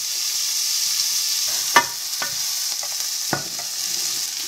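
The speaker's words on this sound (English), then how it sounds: "here I have the butter, put onion and garlic." Onion and garlic frying in butter hiss and sizzle in a steady bright wash, broken by a few sharp clinks of a utensil against the pan, no voices.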